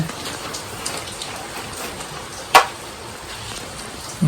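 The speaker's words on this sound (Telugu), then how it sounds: "మసు అవునే మసు కురుస్తున్నది" Light rain drizzles outdoors as a soft, steady patter of drops on surfaces, fairly faint, broken by one brief sharp knock partway through.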